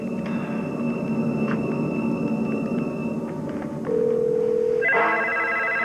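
Telephone in a daytime soap opera scene: electronic beeps of a number being dialed, then a steady ringback tone near the end, moderately quiet with faint room background and no talk.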